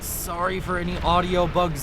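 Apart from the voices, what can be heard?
No distinct noise like a dog, phone or traffic.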